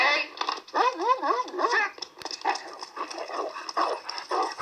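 A dog attacks in a film scene, with rapid, loud snarling and growling at close range and a scuffling sound over the last seconds.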